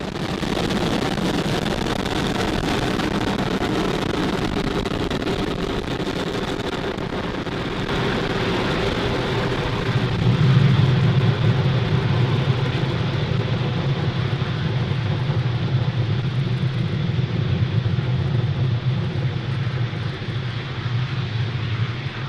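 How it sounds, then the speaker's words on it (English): A SpaceX Falcon 9 rocket climbs away from its launch pad, a steady broadband roar and low rumble that holds loud and even throughout, slowly growing slightly deeper and more distant. "Falcon 9 has successfully lifted off from Pad"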